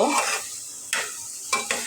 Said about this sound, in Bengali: আমি এটাকে আরেকটু ভালো করে নাড়াচাড়া করে নেব